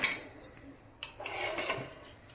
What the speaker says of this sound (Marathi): आता आपण त्याला कुकरमध्ये ठेवतो.